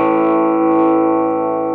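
An electric guitar plays through a BOSS JB-2 Angry Driver distortion pedal with the level of the preceding drive effect turned down, giving one sustained, dense chord that rings steadily, loud and close, and then decays slightly.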